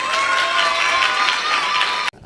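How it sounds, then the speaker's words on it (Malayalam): An audience at a youth gathering in Immanuel Church, Nellikkunnu, claps in a thick burst of applause with a steady ringing tone underneath, then it cuts off abruptly near the end. "വാ വാ വാ എല്ലാവരും കൈയടിച്ചോ"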